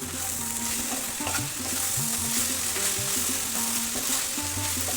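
Okra fry cooking in a pan with green chilli and salt, a dense continuous sizzle under repeated scraping stir strokes, close and fairly loud, with no talking.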